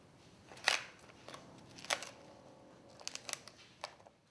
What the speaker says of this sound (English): Then cut the ribs close to the thoracic vertebrae and sever any remaining soft tissue